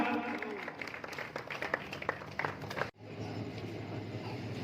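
An audience claps to welcome a guest at a student union reception, a lively patter of many hands that cuts off abruptly near the end, leaving a quieter murmur of voices and room noise.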